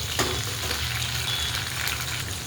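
Onion and chopped tomato with curry leaves fry in a pan for a bottle gourd curry, giving a close, steady, unbroken sizzle throughout with no voices.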